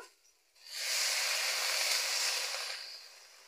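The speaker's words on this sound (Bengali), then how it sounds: "পেঁপেটা আমার লাড়া হয়ে গেছে, এবার আমি জল দিয়ে দিচ্ছি সিদ্ধর জন্য।" Water hits a hot pan of stir-fried papaya for chutney, bursting into a loud, bright steam hiss after a brief quiet start, holding for about two seconds, then slowly fading.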